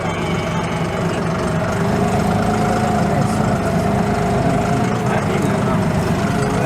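A steady, rumbling tractor engine runs continuously at close range while climbing toward a hilltop temple, a constant low drone with faint background voices mixed in.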